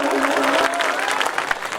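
An audience at a mushaira poetry gathering in Govandi claps in a steady burst, loud and close, while a voice talks over part of the applause.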